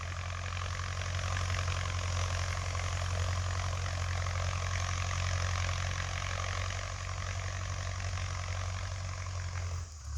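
A Ford 6600 tractor ploughing a field drones steadily and loudly for the whole stretch, with a low, even engine hum and a constant mechanical rumble that stays close and unbroken.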